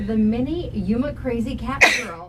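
A single sharp sneeze bursts out near the end of a stretch of continuous talk on a local morning news show in Yuma, loud and close over the speaking voices.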